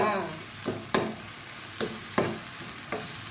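Blended chili and garlic stir-fried in a hot pan give a steady close sizzle, broken by about five sharp scrapes and taps of a spatula against the pan at uneven intervals.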